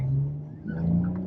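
A Maserati car accelerates off the line with a steady, droning engine note that holds, dips briefly, then rises slightly in pitch, heard from inside and close, with no talking over it.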